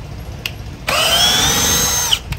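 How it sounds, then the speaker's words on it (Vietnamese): A new Milwaukee cordless drill drives a screw. A short buzz comes first, then a loud rising motor whine that holds for about a second before cutting out abruptly, and a small click follows. "bắn ở đây xuống đủ lực nó sẽ ngắt motor ha"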